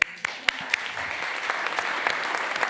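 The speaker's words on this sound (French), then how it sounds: "vous pouvez les applaudir" Studio audience applause for a group of mothers and children, a steady wash of clapping with a few sharp, isolated claps standing out at the start.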